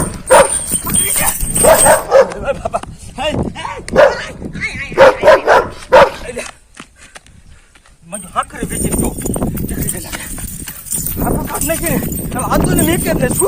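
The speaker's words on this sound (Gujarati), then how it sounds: "મારા દીકરે કૂતરો છોડ્યો" A dog barks and yips in quick repeated bursts close by, with people talking loudly over and between the barks.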